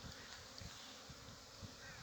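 On a cold, sunny day, honeybees flying out of their hives make a faint, steady buzz against a quiet outdoor background.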